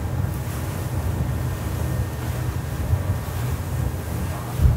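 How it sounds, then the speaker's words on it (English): Axopar 37 motorboat runs at 30 knots through choppy sea, with a continuous rushing roar of engine, hull slap and wind buffeting close to the microphone. "we have a proper chop here. Driving 30 knots, can leave the wheel."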